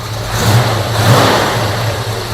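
A carbureted car engine with a Holley carburetor revs in a steady, loping rhythm with a deep, uneven rumble, loud and close throughout.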